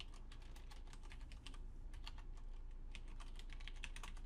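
Steady computer-keyboard typing of C# array code, a dense run of close, crisp key clicks at a quick, uneven rhythm over a low background hum, with a brief pause near the middle.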